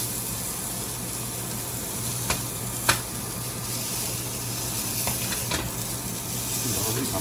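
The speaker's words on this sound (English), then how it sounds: "we're just gonna go ahead and flip them while they're caramelized here a little bit, searing a little bit" Carrots sear in a hot pan, giving a steady high hiss with a few sharp clicks as pieces are turned over, fairly faint and even throughout.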